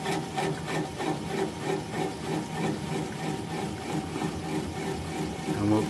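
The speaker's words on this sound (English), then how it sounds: "I'm just going to apply the bevel of the gouge against the bottom of the bowl" Wood gouge cutting the bottom of a bowl on a lathe, a steady rhythmic scraping and rubbing of steel against spinning wood under the hum of the machine.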